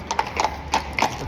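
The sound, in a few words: horses' hooves clip-clopping in Copenhagen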